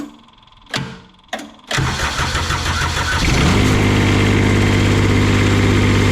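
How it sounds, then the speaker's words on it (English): A cheap used diesel roller's engine cranks in two short bursts, catches and settles into a loud, steady, fast idle around 1500 RPM, running too high, with a deep rumble and no talk. "That's like 1500 RPM, way too high of an idle."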